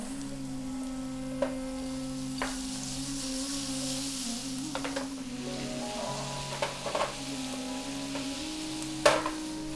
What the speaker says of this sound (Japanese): フェンネル焦げやすいので焦がさないように、こんな感じで少し香りが出てきたらここでニンニクと生姜を入れます